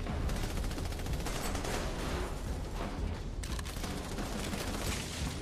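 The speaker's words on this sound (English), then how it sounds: "Look at all that covering fire I just gave you." Sustained gunfire rattles through an Army of Two: The Devil's Cartel firefight, with dense, continuous automatic bursts laying down covering fire and no gaps for the whole stretch.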